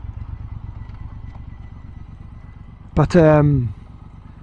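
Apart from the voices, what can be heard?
Triumph Bobber Black motorcycle with X-pipe exhaust riding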